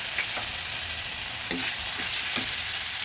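Spices fry in a pan with a splash of water for a thin katla fish curry with green banana, giving a dense constant sizzle with a few soft stirring scrapes and no talking.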